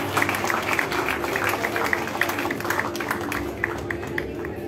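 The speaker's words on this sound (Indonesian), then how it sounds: "Kita berikan tepuk tangan yang meriah." Sustained audience applause at a Ganjarian political declaration event, dense, continuous clapping from a crowd filling the room after people are thanked on stage.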